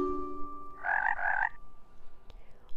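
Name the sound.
toad croaking sound effect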